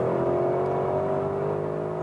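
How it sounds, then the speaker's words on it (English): A sports car with a titanium exhaust roars steadily at high revs on the Nordschleife, a loud, sustained engine drone heard from close by. "That titanium exhaust is really getting louder"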